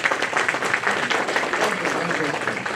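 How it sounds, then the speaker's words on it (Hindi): Audience at a Bar Council of Delhi enrolment meeting claps in welcome, a dense, steady wash of applause with talk mixed in. "तालियां बजा के स्वागत कीजिए आप।"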